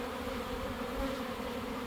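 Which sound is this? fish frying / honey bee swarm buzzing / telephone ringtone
honey bee swarm buzzing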